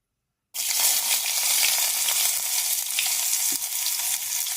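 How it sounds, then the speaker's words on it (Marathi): Chopped onion hitting hot oil in a pan for a cowpea bhaji: a sudden loud sizzle erupts after a brief silence, then holds as a steady, bright crackling fry with no talking. "इथे आपलं आता तेल तापलेलं आहे त्यात आपण टाकणार आहोत कांदा"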